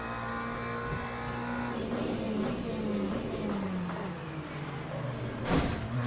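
Race cars in the Le Mans Ultimate sim racing game hum past on track, steady engine drone with shifting pitch as cars pass, a sharper whoosh near the end.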